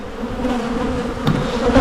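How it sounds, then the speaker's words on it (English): Honey bees being shaken into a hive make a steady, close, dense buzzing drone that swells slightly toward the end, with no talk. "What you should do is shake them bees in."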